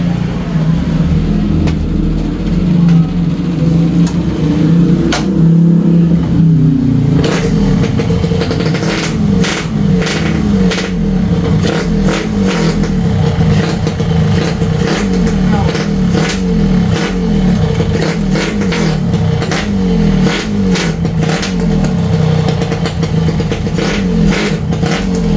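A Yamaha RX King two-stroke motorcycle engine idles and revs close by during a clutch test, a steady loud drone with repeated throttle blips throughout while someone talks over it.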